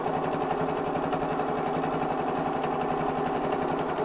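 Domestic sewing machine stitching a chenille clutch bag, giving a fast, even, mechanical chatter of needle strokes, close and continuous, with no voice over it.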